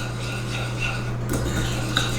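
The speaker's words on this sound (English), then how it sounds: "And then you just mix that up." A spoon stirs brown sugar meatloaf glaze in a bowl, giving soft scraping and light clinks close up over a steady low hum.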